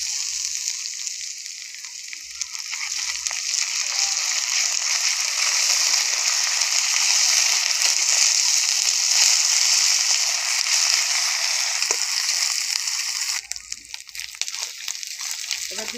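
Ginger garlic paste hitting fried onions in hot oil, a steady bright sizzle that holds for several seconds, fairly loud and even, with a brief clatter near the end.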